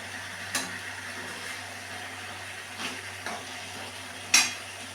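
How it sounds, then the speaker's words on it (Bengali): Mutton kosha being stir-fried in a pan with turmeric and salt: sparse, quiet scrapes and clinks of a spoon against the pan over a low steady hum, with one sharper knock near the end. "ভালো করে একটু কষিয়ে নিই, তারপরে একটু গরম জল ঢেলে দেবো।"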